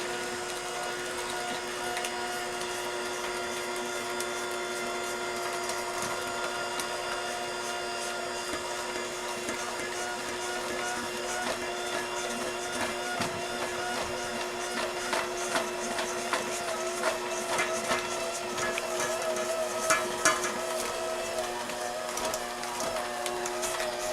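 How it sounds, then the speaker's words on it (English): An electric mixer whirs steadily in a bowl of apple fritter bread batter, a continuous mechanical drone with slight rattling peaks toward the end, fairly close and heard alone without talk. "now we're going to turn our mixer on again just until the batter is all combined"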